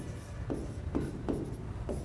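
Pen writing on paper while working out a linear equation in two variables, producing soft scratchy strokes in short bursts about every half second over a quiet room hum.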